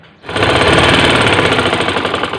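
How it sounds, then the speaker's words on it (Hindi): Sewing machine stitching a folded half-inch hem along the edge of a curtain, starting abruptly and then running as a loud, continuous rapid chatter with steady mechanical rhythm and no voices. "इसको अभी चारों तरफ ये ऐसा मोड़ देंगे आधा इंच और किनारे का सिलाई लगा देंगे"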